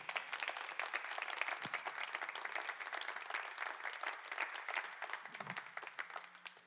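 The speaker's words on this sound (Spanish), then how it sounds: "Dale un aplauso al Señor." A church congregation applauds steadily at a worship service, dense clapping filling the space at moderate distance with no talk over it.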